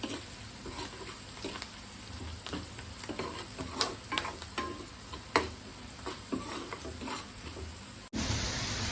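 Onions and curry leaves fry until browned for a Rayalaseema-style egg curry. A continuous sizzle runs underneath repeated scraping stirs and occasional sharp clinks of the spoon against the pan, ending in an abrupt cut.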